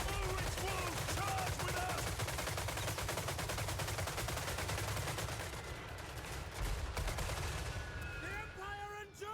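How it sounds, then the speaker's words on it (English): Machine guns rattle in rapid, continuous bursts during a Total War Warhammer 3 battle, dense, loud gunfire filling the whole stretch with scattered shouts and battle noise, easing slightly toward the end. "I do love the sound of the machine guns firing."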